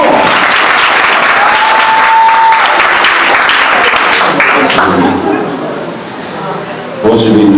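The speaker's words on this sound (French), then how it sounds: "Nous vous demandons d'applaudir le pasteur chaleureusement." Warm applause for the pastor at a Haitian wedding in Brazil, loud dense clapping from the guests that thins out toward the end before a brief burst of noise.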